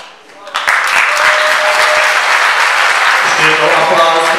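An audience at a ninth-grade school show claps loudly for the winning team, the applause starting suddenly and holding steady across a crowded hall.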